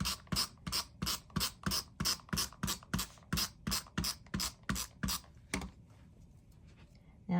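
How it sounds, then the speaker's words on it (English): Repositionable tape pulled off its roll in a quick series of about fifteen sharp, evenly spaced ripping bursts, close and loud, followed by a quieter rustle and a final burst. "So let's put some repo tape on this."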